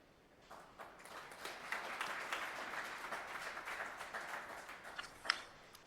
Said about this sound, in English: they're here and they're applauding for you